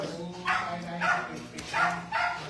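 Dog barking in bursts at a farm, several short yaps repeating through the moment amid people chatting nearby.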